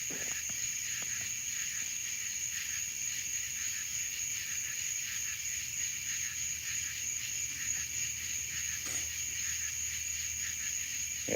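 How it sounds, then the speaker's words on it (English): Cicadas drone in a steady, continuous high-pitched buzz through a summer evening outdoors, holding evenly from start to finish with a few faint background ticks and no talking. "No, that's the cicadas you hear."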